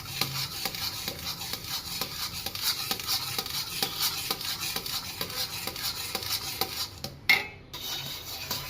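A spatula stirs a thick mawa-based kopra pak mixture in a pan, making steady rhythmic scraping and soft knocks over a low sizzle, with a brief louder clatter near the end and no talking.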